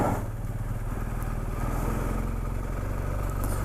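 A motorcycle engine runs steadily and loudly up close on a touring ride through France, a constant mid-pitched drone with no pauses or speech.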